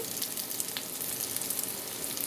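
Whole cumin seeds frying in a pan for a fish dish, a steady close crackling sizzle with no pauses and no voices.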